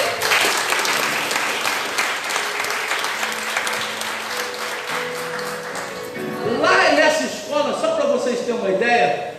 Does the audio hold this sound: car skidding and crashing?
no